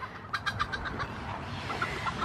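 Short, repeated clucks from a few chickens at moderate distance, with a steady low background rumble and no talking.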